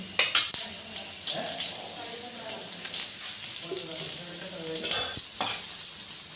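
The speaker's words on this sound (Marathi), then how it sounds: "पण थोडीशी तेलावर भाजून घेणार आहे" Freshly ground masala roasting in a little oil for a spicy brinjal curry, with a sizzling hiss, a spatula stirring and clattering against the pan in bursts, close by.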